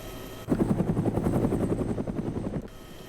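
A military helicopter in a milsim video game thumps loudly and steadily with rapid rotor chop, starting abruptly and cutting off after about two seconds over a low background hum.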